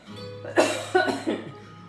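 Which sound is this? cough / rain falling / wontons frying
cough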